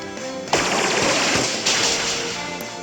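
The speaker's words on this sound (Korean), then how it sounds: "네, 물대포 발사." A Water Gun attack fires in a Pokémon game during a Golden Rod City gym battle against Geodude, a loud, dense rushing burst that starts abruptly and pours on steadily for a couple of seconds, with a second surge midway.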